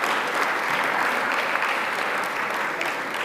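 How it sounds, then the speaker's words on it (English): Audience at a medical ethics CPD talk applauds the event sponsors, a steady dense wash of clapping that holds evenly throughout, loud and close with no talk. "Let's give our sponsors a big round of applause."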